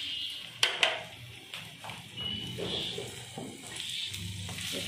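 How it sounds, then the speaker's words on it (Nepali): Chilies and ginger frying in mustard oil for banana flower pickle, a soft crackling sizzle with a couple of sharp utensil clinks against the pan near the start. "एकछिन फ्राई गर्ने।"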